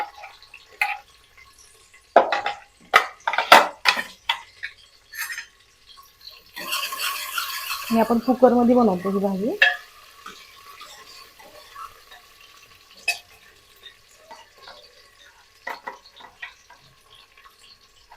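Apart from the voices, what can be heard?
onion and curry leaves frying in hot oil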